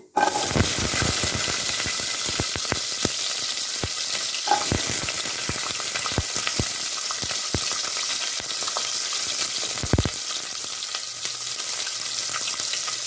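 Mustard seeds, urad dal and small shallots frying in hot oil, a continuous close sizzle broken by sharp crackles and pops from the seeds, running alone without speech.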